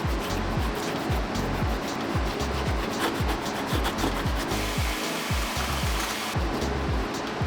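Suede shoes are rubbed with an eraser to lift yellowish discoloration, giving a close, steady run of rapid scratchy back-and-forth strokes in an even rhythm with brief pauses, no voices.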